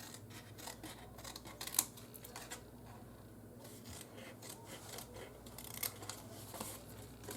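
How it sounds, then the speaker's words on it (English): Scissors or a blade cutting along the score marks of a paper gift box, a quiet run of crisp snips and rasping strokes with a couple of sharper clicks, no voices. "we're going to cut up on the score marks"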